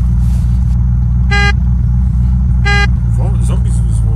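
Car driving in the video game Unturned, a steady low engine rumble throughout with two short horn toots, while players talk over it.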